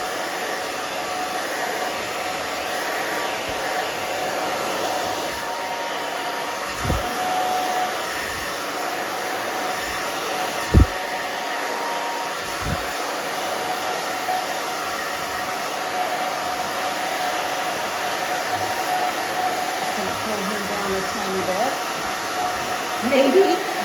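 Hair dryer blowing on hair during a short bob haircut styled with a round brush, a continuous steady whir running the whole time with a few soft knocks and handling sounds, no clear talk.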